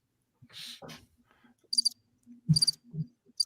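Crickets chirp in short, high, trilling bursts that repeat every second or so, with faint, sparse talk in between during a live amateur-radio broadcast.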